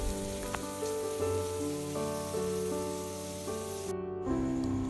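Onions frying in a pan in a home kitchen, a steady faint sizzle that runs throughout, with tonal background hum and no talk.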